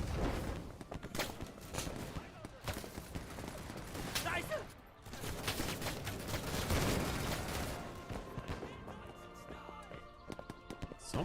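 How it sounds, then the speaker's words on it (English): Rapid trench gunfire in Over the Top: World War I crackles in dense, uneven bursts of sharp shots throughout, near and loud, briefly dropping away mid-way before resuming, with a voice talking over parts of it. "Someone's shooting at us from over there."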